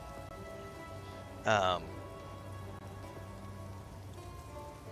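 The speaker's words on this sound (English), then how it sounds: "I think it's still raining" Rain falls outside as a steady, soft hiss of drops on surfaces, distant and constant throughout, with a brief spoken word partway through.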